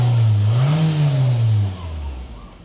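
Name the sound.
Toyota Camry 2010 engine revving after timing chain replacement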